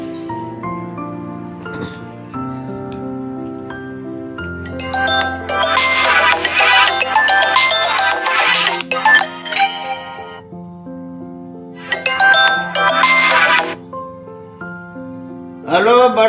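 A phone on an outgoing call plays a melodic ringtone of repeated chime-like notes, bursts of brighter jangling coming and going over about sixteen seconds, loud and close.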